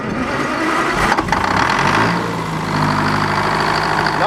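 Old, dirty sawmill motor cranks and catches, then settles into a loud, steady idle with a low rumble and a faint whine, close by with no talking.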